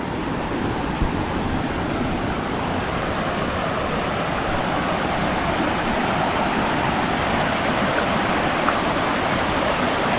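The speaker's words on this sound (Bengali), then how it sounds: "ঝর্ণার শব্দ শুনতে পাবে।" Water rushes steadily as a waterfall and stream pour over rocks near the Maa Kalyaneswari temple, a continuous, loud, broadband roar with no talk.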